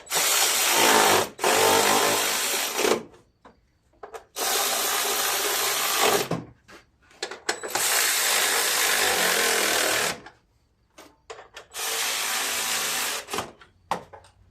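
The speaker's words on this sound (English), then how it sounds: "I'm going to tighten my bolts down on my shroud." A weakening battery impact wrench tightens bolts on the shroud of a John Deere LA150 riding lawn mower in several loud whirring bursts of a few seconds each, separated by short pauses and clicks.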